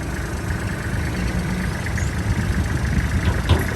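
A Kubota L3408 tractor's three-cylinder, 34-horsepower engine runs at a steady idle, a constant low rumble that stays even and close throughout.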